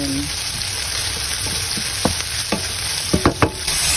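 Onion and garlic sizzle steadily in hot oil in a pan while being sautéed for ginisang monggo, with a soft continuous crackle and a few sharp scraping stirs of a utensil near the end.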